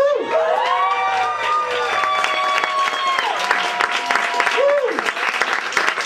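An audience at a talent show claps and cheers in a lively, sustained burst, with whoops and shouting voices rising over the continuous applause.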